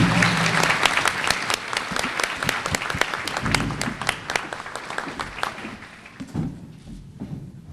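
Audience applause at a Peanut Fest Queen's luncheon and fashion show, a loud, dense burst of clapping that thins out and fades toward the end.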